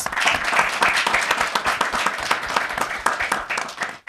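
Loud, dense applause from a school audience at an event hosting the American International School of Bamako, steady rapid clapping filling the whole stretch and fading only at the very end.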